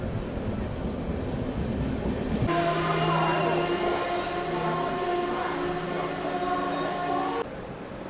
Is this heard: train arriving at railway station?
yes